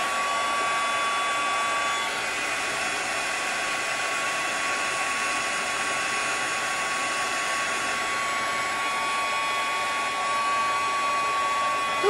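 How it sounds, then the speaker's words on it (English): A heat embossing gun drying thin craft pieces blows a steady, loud, even whirring hiss that runs unbroken throughout with no talking. "just take your heat embossing gun"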